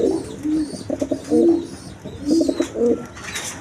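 A pair of pigeons, an Afghan-type breed offered for sale, coo in repeated low throaty bursts, several rolling phrases close by with short pauses between them and no talking over them.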